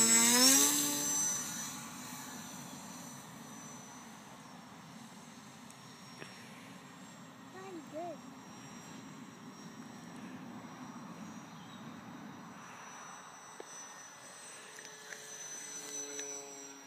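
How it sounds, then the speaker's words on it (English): A HobbyKing Bixler V1 RC plane on its maiden flight on a calm day, its steady electric motor drone continuous and fairly distant, louder at the start and then holding an even hum throughout with no talk. "here's the maiden flight of the Bixler"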